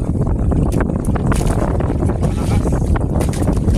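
Strong wind buffets the microphone at sea in a steady roar, with rushing water from strong waves and a faint voice underneath throughout.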